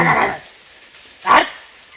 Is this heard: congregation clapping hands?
no